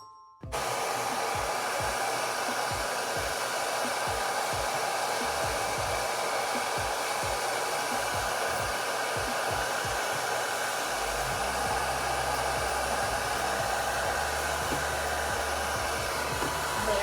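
A hair dryer blows warm air onto ice in a melting experiment, a loud continuous roar running almost the whole time after a brief start, with no talking.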